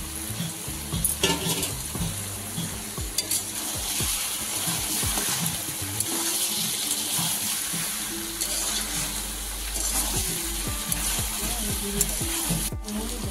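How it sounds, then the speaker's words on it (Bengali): Fried pointed gourd pieces tossed into a cooked-down spice paste in a hot pan, a steady close sizzle with repeated stirring scrapes and clinks throughout. "এবারে ভেজে রাখা পটলটা এর মধ্যে অ্যাড করে দেওয়া হবে।"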